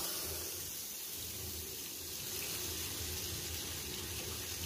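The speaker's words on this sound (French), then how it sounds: "Et là, on lance l'eau." Water runs steadily from a bathroom tap fitted with a flow-restrictor washer, a constant close hiss and splash that holds at an even level from start to finish.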